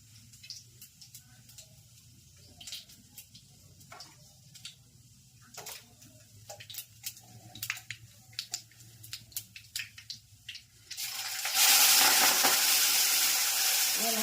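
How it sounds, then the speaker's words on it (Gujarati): Radish greens frying in tempering oil with mustard seeds and cumin, a loud steady sizzle bursting up near the end after quieter scattered crackles and clinks. "ભાજી કા વઘાર"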